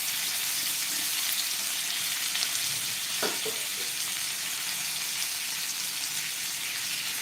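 Bangda mackerel pieces fry in oil in a pan on a low flame, a steady close sizzle running throughout, with a brief soft clatter partway through.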